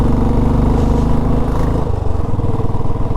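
A vehicle engine labours in first gear up a steep, cloud-covered mountain road in Arunachal Pradesh, droning loudly and steadily close by with a rough, throbbing note that drops slightly partway through.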